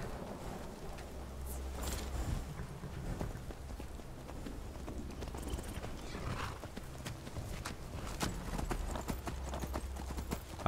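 Horse hooves clip-clop steadily in the video game Skyrim, a continuous rhythmic stream of nearby hoofbeats with an occasional whinny and a low background hum.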